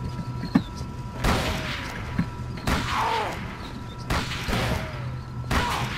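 Gunshots ring out in the video game Call of Cthulhu, a handful of separate booming shots spaced about a second apart over a constant low game hum.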